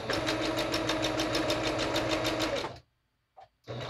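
Sewing machine stitching quilt fabric for four-patch blocks, a steady rapid whirring run for nearly three seconds, then stopping, with a couple of brief soft clicks and a short restart at the end.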